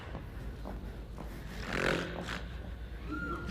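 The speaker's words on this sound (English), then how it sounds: "That grandmother has a mighty snore." A grandmother's mighty snore from a bed in a stage musical, one rough rumbling breath rising to a peak midway, fairly close over a soft continuous background.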